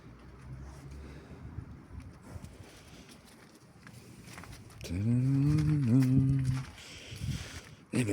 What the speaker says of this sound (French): Vache.